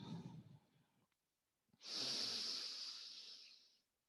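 Deep breathing: a breathy exhale followed by a pause, then a long strong airy breath lasting about two seconds, close and quiet with no talking.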